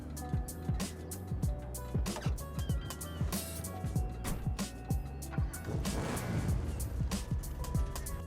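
A 1970s Challenger-style muscle car engine in GTA Online cranks and starts, settling into a deep, lumpy, rumbling idle with repeated low throttle pulses throughout, with some voice-like sound mixed in.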